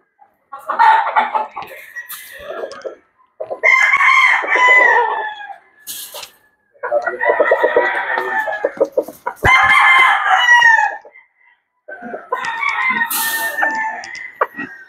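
Boston Roundhead rooster crowing five times in a row, loud and close, each crow a strained, rasping call of a second or two separated by short pauses.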